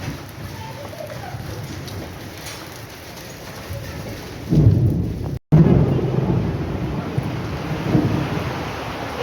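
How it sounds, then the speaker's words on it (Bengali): Heavy rain pouring down with rolling thunder during an Ashtami festival evening, a dense steady hiss that swells louder midway after a brief cutout, with faint voices underneath. "দেখছো, জোরে বৃষ্টিটা নেমে গেল।"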